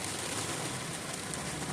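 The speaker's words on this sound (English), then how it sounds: "It's been raining the whole way to here, and you probably can hear it." Steady rain falls on a parked car, a soft, even hiss drumming on the body and glass, heard from inside and fairly faint throughout.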